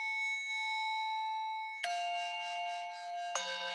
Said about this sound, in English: it has all these different meditation bells and bowls as signals